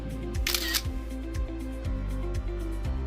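Camera shutter clicks repeat in a quick, steady series, close and crisp over a low background hum, with no voices.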